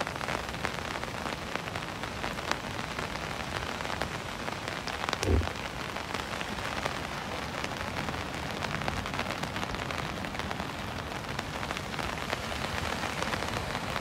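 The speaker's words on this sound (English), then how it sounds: "we need the rain" Steady rain falls on a surface at Cottesloe Beach in Australia, a dense continuous hiss with one brief louder thud near the middle and no voices.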